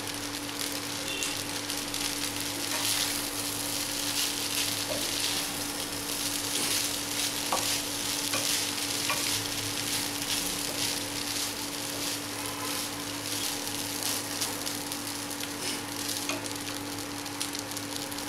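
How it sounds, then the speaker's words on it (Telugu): Tomato rice with coriander sizzles steadily in a pan on the stove, a continuous frying hiss with faint scraping and clinks as it is stirred, close-up and without talk. "తరువాత దీనిలో కొత్తిమీర వేసి కలిపి"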